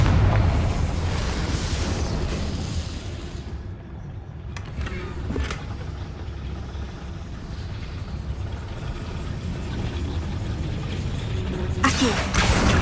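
A Confringo spell blast in Hogwarts Legacy, a broad booming burst that rolls into a dense rumbling roar, with brief sharp crackles partway through and again near the end.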